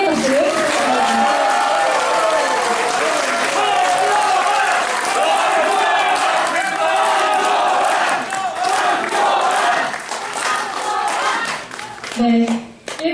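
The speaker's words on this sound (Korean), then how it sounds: "큰 응원의 박수를 부탁드립니다." An audience at a public debate forum in the Korea Press Center bursts into sustained, loud applause mixed with crowd noise and cheers, thinning toward the end.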